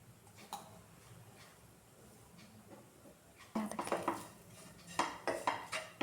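Spoon scraping and clinking against a pan while chilli powder, coriander powder and salt are stirred together for a masala chutney, quiet at first, then a run of louder, irregular metallic scrapes and knocks.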